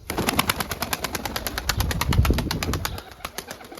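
Domestic breeding pigeons on a rooftop loft, a rapid clatter of wingbeats in quick repeated bursts, close and fairly loud, with faint low cooing underneath and no speech.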